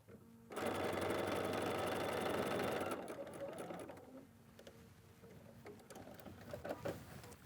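Sewing machine stitching patchwork fabric, a steady close mechanical whir that runs loud for a few seconds and then slows to a lighter, uneven stitching hum.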